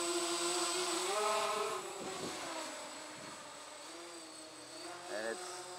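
A twin tricopter drone with a heavy frame on a 3S battery flies nearby, its motors giving a steady buzzing whine that swells and dips as the throttle changes, with a person talking underneath.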